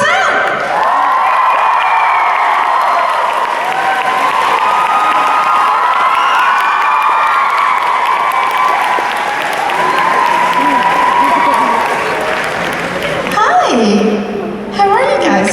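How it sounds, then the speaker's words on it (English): A Comic Con London crowd applauds and cheers for the young actors from IT as they take the panel stage, with high excited shouts and whoops over steady clapping that rises and falls before tapering near the end. "hugest round of applause for Sophia Lillis,"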